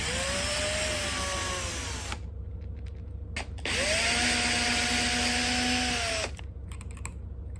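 A cordless drill whines in two bursts, spinning screws out of a door striker plate, close and loud with a short pause and clicks between runs.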